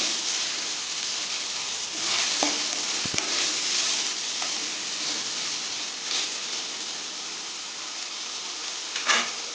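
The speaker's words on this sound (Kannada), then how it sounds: "ಟೊಮೆಟೊ ಸಾಫ್ಟ್ ಆಗೋ ತನಕ ಫ್ರೈ ಮಾಡಬೇಕು." Tomatoes fry in a pan over high flame with onions for an aloo tomato kurma, giving a steady broadband sizzle throughout, with a few brief stirring clatters and scrapes.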